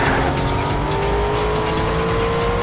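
Aston Martin DB9 racing in Need for Speed Shift on a London circuit, its engine droning loud and steady with rising whine and tyre squeal through a tight corner, no voices.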